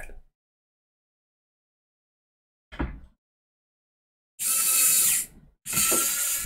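Ratchet tightening small bolts on a tilt-and-swing model ship painting jig: one brief burst of clicking, then two longer, louder runs of rapid pawl clicks close by, with silence between.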